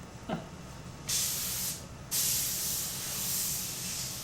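A triple-action-handle airbrush made in 2007 sprays in two bursts of steady hiss, a shorter one and then a longer continuous one, close and fairly loud, with no talking.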